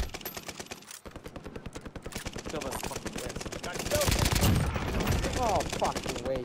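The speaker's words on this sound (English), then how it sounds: "Is that you shooting? No, that's Mayhem trying to get kills." Rapid automatic gunfire in a multiplayer shooter battle royale, Oblivion mode, rattles in dense regular bursts almost the whole time, louder near the end, with players talking over it.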